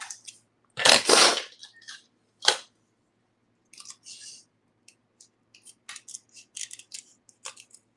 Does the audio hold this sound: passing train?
no